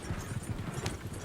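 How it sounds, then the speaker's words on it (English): A horse gallops in Red Dead Redemption 2, hooves beating a quick, steady clip-clop rhythm, close and fairly loud with no talking. "Horses won't go this fast for long."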